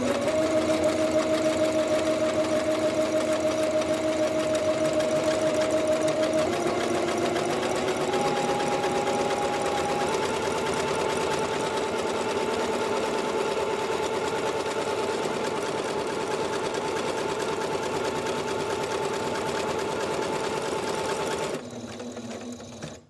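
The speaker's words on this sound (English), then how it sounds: "now I'll hit the foot pedal and it'll do the work for me" A sewing machine runs steadily for about twenty seconds, stitching a buttonhole on pajama pants, its motor hum shifting pitch slightly partway through, then stopping abruptly near the end.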